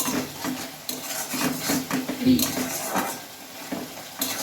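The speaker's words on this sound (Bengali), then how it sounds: "একটুখানি তেল দেব। মশলাটা কষিয়ে" Spice paste frying in a little oil in a pan, stirred with a utensil that scrapes and knocks against the metal in irregular bursts over a soft sizzle, close by.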